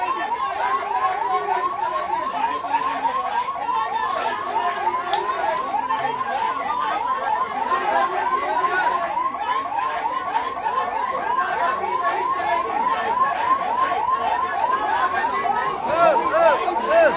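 A wailing siren on a vehicle at a hospital protest cycles rapidly and steadily throughout, moderately loud, beneath a constant murmur of crowd chatter.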